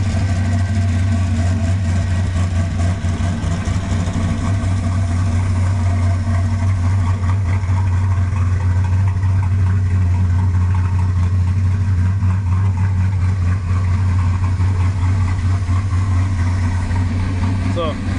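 A Ford car with a turbocharged 5.3 engine runs steadily through the whole stretch with a deep, constant drone. Someone talks over the engine sound.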